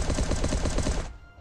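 Rapid burst of AK-47 automatic fire from the video game Last Day On Earth: Survival, about a second of fast evenly spaced shots that cut off abruptly, loud and alone with no talk.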